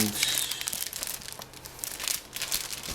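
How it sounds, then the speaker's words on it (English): Crinkling plastic packaging rustles as a snugly packed Foldio2 folding photo studio box from OrangeMonkie is pulled out of its bag, close up and continuous for a few seconds, with a voice faintly present. "So pull that out of the bag here."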